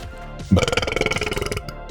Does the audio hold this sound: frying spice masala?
no